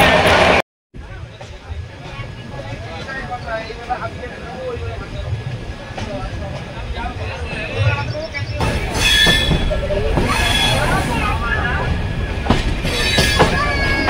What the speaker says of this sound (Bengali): জম্মু তাওয়াই এক্সপ্রেস আমাদের ট্রেন ঢুকে গেছে।